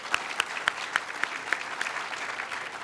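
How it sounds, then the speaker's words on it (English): An outdoor audience at a statue unveiling in Regent Park claps steadily at a moderate distance, a soft wash of applause with a few sharper individual claps standing out. "we can applaud for that"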